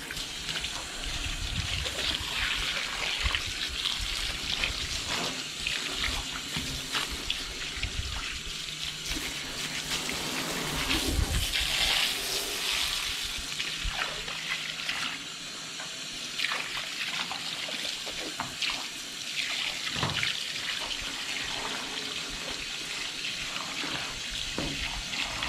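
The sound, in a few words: running tap water rinsing a gar fish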